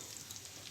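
Tempering seeds, dried red chillies and garlic dropped into hot oil in a pan, a brief, faint, steady crackling sizzle.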